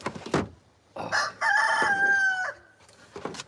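A rooster crows once at length, its long rising-then-held call loud and near, framed by short clucking bursts and scratchy farmyard noise before and after.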